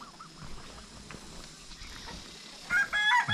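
Farmyard chickens call out in short bursts over a low, steady outdoor hum in a rural village where ducks and buffalo are also kept, with louder squawks and clucks near the end.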